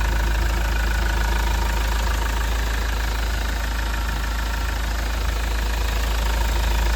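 A second-hand Mahindra Scorpio diesel engine idles just after starting, a steady, loud, close rumble with an even clattering knock that holds unchanged throughout, no voices over it.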